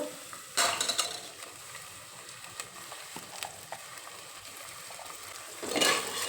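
Chopped onion frying in a pan with soaked hyacinth beans (avarekalu) tipped in, a soft steady sizzle with scraping stirs and a louder burst of sizzle as the beans hit the hot pan near the start and again at the end.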